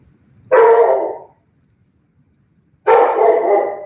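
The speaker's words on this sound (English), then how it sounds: "My darn boy dog, Butch." A dog called Butch barks in two loud, close bursts about two seconds apart, each lasting under a second, with near silence between them.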